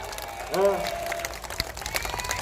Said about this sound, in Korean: 앵콜 박수 한번 부탁합니다